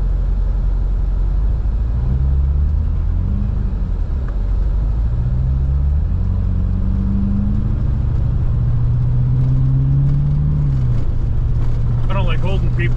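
Steady low engine rumble of a pickup truck with a big front snowplow and a full tank in the back, driving through snow, its pitch rising and falling as it works, with a voice heard over it.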